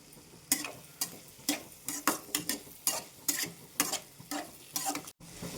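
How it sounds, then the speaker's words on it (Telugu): Raw prawns fry in a pan with salt just added, the spoon stirring and scraping in a steady run of sharp clacks over a soft sizzle, close and fairly loud, with no talking. "సాల్ట్ వేసి బాగా ఫ్రై చేసుకుందాం"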